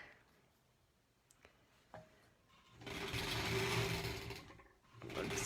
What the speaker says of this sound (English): Sewing with that 1/4 inch seam allowance again.